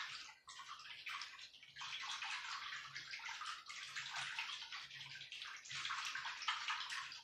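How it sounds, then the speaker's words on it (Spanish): Water pouring in steady splashing bursts into a bowl of sourdough starter dough, fairly close and continuous with brief pauses between pours; no voices. "Vamos a ir echando la agüita a conforme nos vaya pidiendo."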